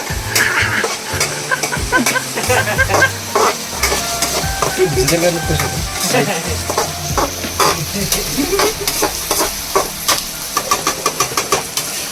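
Onions sizzle steadily in hot oil while being roasted for egg masala, with a continuous frying hiss under repeated spatula scrapes and clinks against the pan, and a low background hum throughout.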